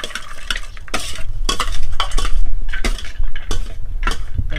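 A spoon stirs and scrapes spiced aloo kabli with fried crunchy topping inside a metal bowl, giving loud, rapid, repeated clinks and rough mixing scrapes close up.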